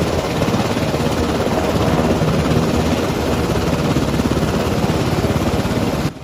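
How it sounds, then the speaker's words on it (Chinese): A Black Hawk helicopter of the aviation corps flies over Taitung and the Pacific, its steady rotor chop and engine roar loud and continuous, close by, then cutting off sharply at the end. "空勤队的黑鹰直升机不停地穿梭在台东和太平洋的上空"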